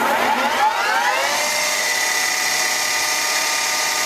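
Headstock of a Clausing-Colchester 15 x 50 inch lathe spinning up to high speed, a steady close mechanical whine that rises in pitch over the first second and then holds even and loud.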